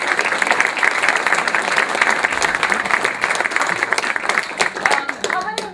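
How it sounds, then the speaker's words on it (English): A lecture audience bursts into sustained, dense applause for the Cassini science team, loud and steady across the room before tapering off into scattered claps at the end. "if there's anybody who deserves a round of applause, it's the science team"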